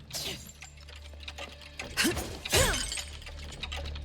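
Glass shattering as clocks break in a horror video game, with a couple of crashing bursts standing out over a steady low hum and faint background sounds.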